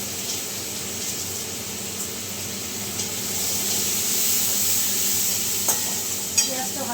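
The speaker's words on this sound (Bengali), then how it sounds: "পেঁয়াজটা ভাজা হোক ততক্ষণে" Onions fry in a pan with turmeric stirred into water, giving a steady, continuous sizzle with occasional light clinks of stirring.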